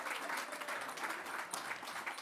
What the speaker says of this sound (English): Round of applause, everyone at home as well